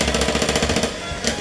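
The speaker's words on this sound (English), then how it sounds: "Give it a whisk and then it's ready." An electric whisk whirs loudly and rhythmically through meringue with a dash of vanilla, a close buzzing beat that eases briefly near the end.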